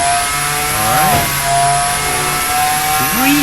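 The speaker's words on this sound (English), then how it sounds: "Let's see how fast this car really goes." A hypercar in a racing video game revs and accelerates hard, engine pitch sweeping up through several gear shifts with sharp rising whines, loud and close with no talking.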